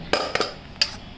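Mango pieces dropped into a spice mix of fenugreek powder, chilli, salt and turmeric for pickle: three quick close clinks and clatters of pieces and utensil against the container, then quiet.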